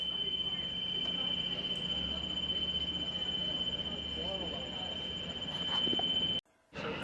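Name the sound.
whistling warning signal as ferry vehicle loading ramp is lowered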